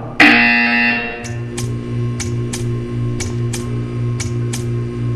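A loud electronic buzzer in the video game Portal 2 blares as one sustained harsh tone, then a steady pulsing drone continues with a regular series of short ticking clicks, no speech.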